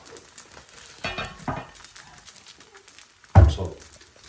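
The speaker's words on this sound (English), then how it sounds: "This is my last final paratha. Give me a flip. Let it cook." A paratha cooks in a pan with a soft continuous sizzle, a couple of brief rustles and one louder close thump as it is flipped or pressed, with no talking.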